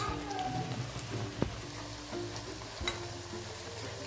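Drumstick flower pakoras fry in hot oil, giving a soft, steady crackle with a few sharper pops and a light tap of a spatula, fairly quiet overall with no talk.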